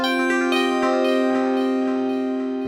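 Sustained bell tones from a Digitone 2 synthesizer ring out with bright, shimmering overtones, a few soft struck notes sounding over a steady, slowly fading chord.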